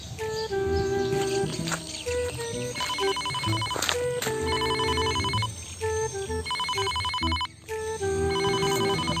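A telephone rings loudly and close, its electronic ringtone repeating a bright, chirpy melodic pattern over and over.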